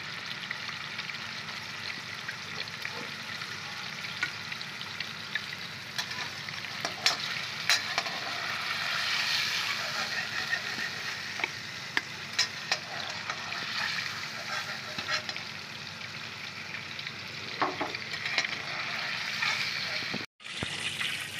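Shrimp frying lightly in a pan give a soft continuous sizzle with occasional stirring clinks and scrapes, fairly quiet and close, ending with a brief clatter.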